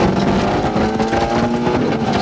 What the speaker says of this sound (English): Stage 1 in the Longwood Forest, and Allport goes all out in his attempt to defend his national title